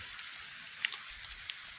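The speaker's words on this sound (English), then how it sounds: "Alright, so it's raining pretty good." Rain falls outdoors on a cold, dark winter day, a faint steady hiss broken by scattered soft ticks of individual drops, with no voices.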